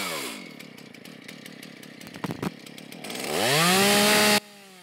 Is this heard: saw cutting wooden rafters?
yes